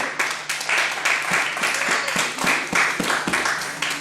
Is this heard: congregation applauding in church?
yes